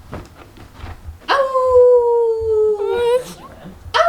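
A dog howls in long, drawn-out wailing tones, loud and close, after some short yips, then breaks into another howl at the end; a person's voice is faintly heard briefly at the start.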